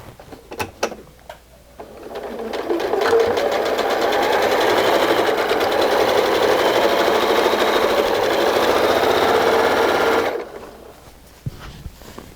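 A sewing machine stitches fabric for a DIY baby carrier, running in one continuous burst of about eight seconds, close and clear, with a few short clicks and handling sounds before and after.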